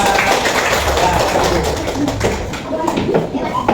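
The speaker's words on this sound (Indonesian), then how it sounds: "Tepuk tangan untuk kelompok 3" Classroom applause for a student group in an Islamic jurisprudence lesson, steady clapping mixed with children's voices and chatter filling the room.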